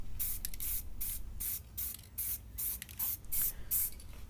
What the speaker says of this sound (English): So just finishing off the last of spraying